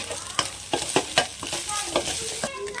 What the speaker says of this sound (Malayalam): സോൾട്ട് ഇങ്ങനെ സ്പ്രിങ്കിൾ ചെയ്ത് കൊടുക്കണം. എന്നിട്ട് ഇത് നല്ലോണം മിക്സ് ചെയ്ത് വെക്കണം.